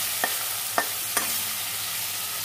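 Mango chutney with green chili stirred in a frying pan, a soft steady sizzle broken by three light spoon scrapes against the pan, no voices.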